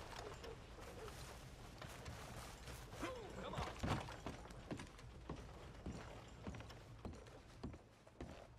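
Hooves of a ridden horse in Red Dead Redemption 2, a steady run of soft clip-clop beats that continues throughout beneath a busy game soundscape, fairly faint overall.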